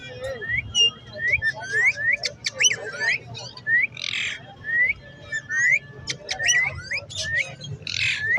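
Caged parrots, including young African greys and other birds, fill a Lalukhet bird market with repeated nearby whistles, squawks and chirps over a low background murmur.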